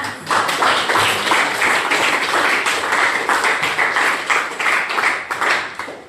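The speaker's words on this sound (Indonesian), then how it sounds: "tepuk tangan untuk kita semua" A group of participants in an Indonesian school activity applauds together, the clapping strong and continuous with a loosely rhythmic, pulsing beat that holds steady before tailing off at the end.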